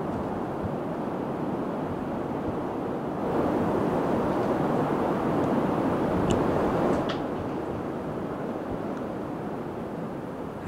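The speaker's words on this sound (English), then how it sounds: "the reason we slept so poorly last night is because it is so windy here" Strong wind roars steadily around a yurt, a dense, unbroken rush that swells louder midway, heard from inside with no talking.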